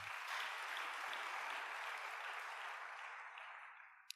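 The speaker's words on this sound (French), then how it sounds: "Acclamez pour vous-même." A church congregation applauds at a faint, steady level for about four seconds, a dense wash of clapping that slowly tapers off near the end, with no voices over it.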